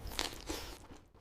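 A crisp crunch as someone bites into fried chicken sajji, a brief close crackly bite followed by faint chewing, soft and alone.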